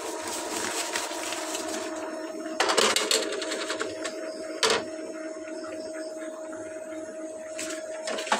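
An Epson L3210 inkjet printer runs its automatic head-cleaning cycle, giving a steady mechanical hum with a couple of louder clunks from the print mechanism, heard up close without talking.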